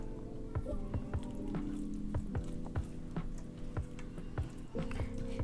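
Sauce for chicken bread, seasoned with chilli, black pepper and salt, being stirred in a pan: wet squishing and scraping strokes in an irregular rhythm, close and fairly quiet, with a voice talking over it.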